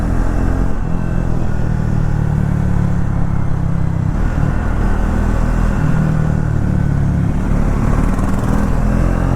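A Triumph Thruxton 400 motorcycle ridden through city traffic gives a steady, close engine rumble with a low, continuous drone and mild surges, under constant road and wind noise, with no talking.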